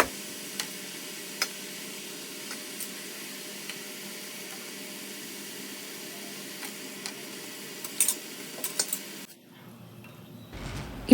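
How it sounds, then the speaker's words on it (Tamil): Murukku dough frying in hot oil on a medium flame gives a soft, steady sizzle with scattered faint ticks and pops, then cuts off near the end. "இப்போது எண்ணெய் நல்லா சூடானதும் நம்ம முறுக்க போட்டுக்கலாம்."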